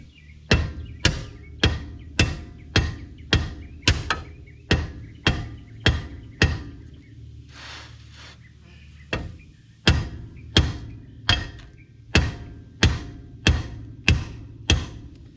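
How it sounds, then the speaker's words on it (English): Loud, sharp hammer blows strike a drum brake on a Buick Skylark in a steady, metronomic rhythm, about a dozen hits, a short pause, then another run of evenly spaced metallic strikes, close up. "The wrong call is me with the hammer."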